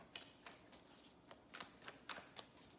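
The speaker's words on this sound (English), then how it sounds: "One more shuffle." Quiet, crisp riffling bursts as a deck of cards is shuffled several times in quick succession, close and soft.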